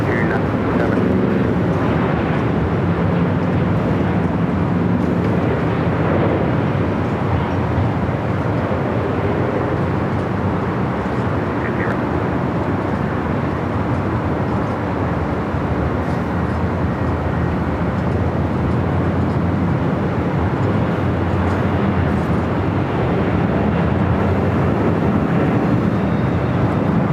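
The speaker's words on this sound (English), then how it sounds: "the Latam Dreamliner taking off 25 at right" LATAM Boeing 787 Dreamliner taking off from runway 25 right at Los Angeles airport, a sustained loud jet roar that swells slightly and rumbles on without a break.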